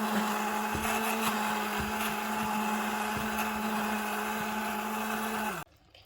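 An immersion blender purees apricot jam in a pot, whirring steadily at high speed with a continuous motor hum and low rumble, then cuts off abruptly near the end.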